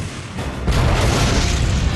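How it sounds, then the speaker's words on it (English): A heavy boom as a WWI Mark IV tank's gun shot strikes a German tank's turret: a low rumble swells abruptly into a loud, sustained blast that fills the whole stretch, with no voices. "And a carefully aimed shot hit the turret of the German tank, bringing it to a standstill."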